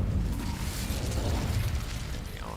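A fire spell, Incendio, goes off in a video game with a loud, rumbling whoosh of flame that stays dense throughout and fades slightly at the end.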